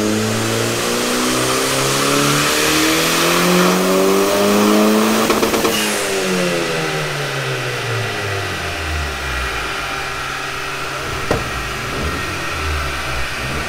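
Mk2 Golf GTI with a 1.8T big-turbo GTX2867 engine revving hard on a dyno, a loud sustained pull with rising and falling harmonics, sharp rev changes midway and a brief pop near the end.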